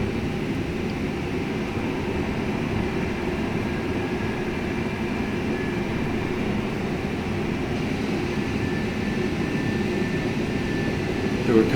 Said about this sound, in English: And we're going to go full flaps. We're going to put our landing gear down.